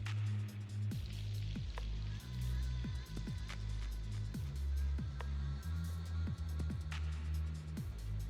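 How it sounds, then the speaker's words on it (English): Rain falls at night with a steady patter of drops on a surface, plus scattered close, heavier drips and low thuds throughout, fairly near and with no voices. "It's a rainy night."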